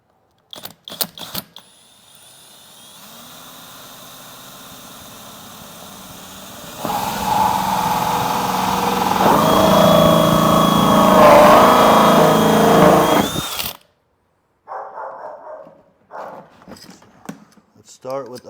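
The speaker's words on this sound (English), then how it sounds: "Just cut out a square with your multi-tool." An oscillating multi-tool cuts a square hole in the plastic incubator box, a buzzing saw rising in the middle for several seconds and then stopping, with brief knocks and handling noises before and after.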